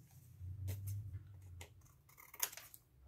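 Scissors trim the back of a dream catcher strip, a few soft, close snips and rustles of material with a slightly sharper cut near the end.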